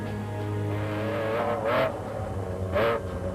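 Rally cars race along hilly dusty desert stages, engines droning steadily with two louder passes swelling by close to the listener.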